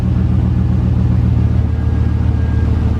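A 2011 Chevy Silverado with a Stainless Works cat-back exhaust idles nearby with a deep, loud, steady thumping rumble and no voices over it.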